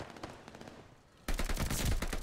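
Gunfire in the video game Call of Duty Vanguard, with a quiet stretch then a loud, dense burst of rapid automatic shots and impacts filling the second half.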